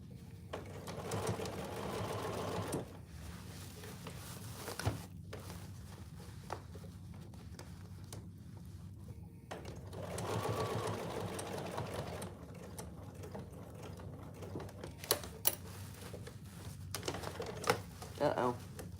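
A sewing machine stitches thick material for oven mitts in slow, stop-start bursts of rapid mechanical whirring and needle clatter, with a person talking quietly between runs.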